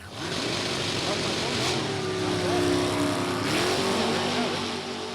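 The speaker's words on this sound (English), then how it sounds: "John Kastner's car come off the stop and kicked the tail to the side" An NHRA drag racing car launches off the line, its engine roaring and rising in pitch at a distance, then sweeping past, with an announcer talking over it.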